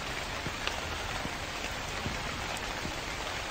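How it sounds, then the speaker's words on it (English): Steady rain falls in the horror video game The Convenience Store, a continuous patter of drops on surfaces with a few slightly sharper drips standing out, moderately loud and even throughout with no voices. "The rain effect is nice."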